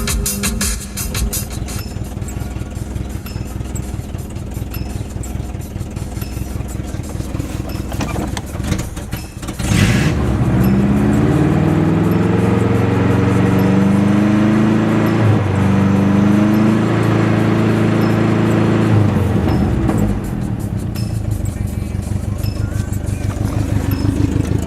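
A Subaru engine with 221,000 miles runs steadily and loudly nearby, a continuous droning hum that shifts in tone midway, with no ticking.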